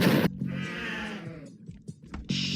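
A cartoonish sheep in the video game Crazy Cattle 3D gives one clear, wavering bleat at close range. Short bursts of game noise come just before and after it.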